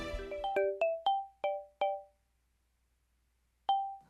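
A mobile phone ringtone signals an incoming call in a Turkmen film scene: a quick run of bright, clear electronic chimes rising in pitch, then a pause before one more tone sounds, with no one talking.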